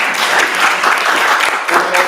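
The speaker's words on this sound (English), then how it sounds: "Please give a round of applause." At a graduate music recital the audience breaks into brisk, full applause for the cast, a steady wash of clapping that is loud and close and lasts the whole moment.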